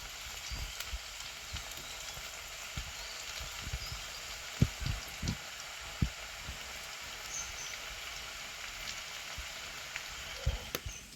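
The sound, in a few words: capsicum fritters frying in oil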